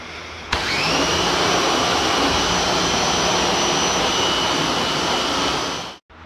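A pressure washer starts abruptly and runs at a steady, loud, high hiss and whine while rinsing a stripped metal part before sandblasting, then cuts off near the end; no voices.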